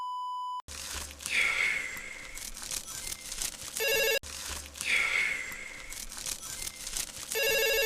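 A telephone rings in repeated electronic trills, two ring cycles separated by a short pause, fairly clear with some background hiss.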